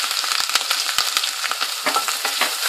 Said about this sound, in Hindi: अब उसी तेल में आपने अदरक लहसुन का पेस्ट जो है ना, वो डाल के फ्राई करना है